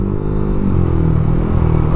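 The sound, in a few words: motorcycle engine running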